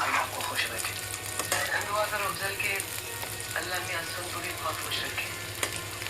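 Food is gently stirred in a sizzling pan, soft scraping and stirring over a continuous frying hiss, with a voice murmuring faintly in the background.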